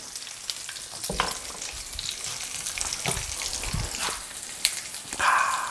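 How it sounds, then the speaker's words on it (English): Bacon frying in a pan for a homemade breakfast sandwich, a close steady crackling sizzle with spatters and a few scraping knocks as the strips are flipped. "Flip the bacon."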